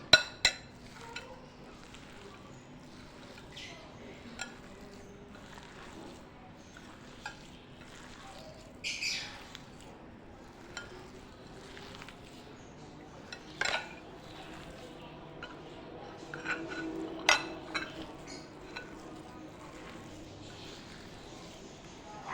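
A spoon works boiled potatoes with turmeric and salt in a bowl, making soft scraping and stirring sounds broken by sharp, scattered clinks against the bowl, all quiet and close.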